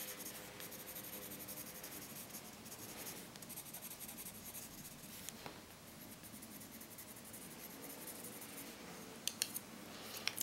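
Colored pencil shading on paper, a close continuous scratchy rubbing with steady back-and-forth strokes and a few faint taps.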